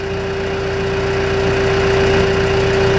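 A John Deere 310G backhoe diesel engine idles at minimum speed, a loud, close, steady drone with a constant hum and no speech.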